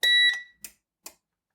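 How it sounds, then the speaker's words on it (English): A Gembird Energenie line-interactive rack-mount UPS, just repaired after exploding, gives one long steady high alarm tone followed by two short spaced beeps, then silence. "We can silence the alarm and everything looks good."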